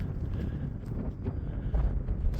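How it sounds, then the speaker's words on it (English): Cold wind buffets the microphone outdoors on a wild camping trip, a continuous low rumbling roar with gusty swells, loud and close throughout. "It's a stunning day, albeit a really cold wind"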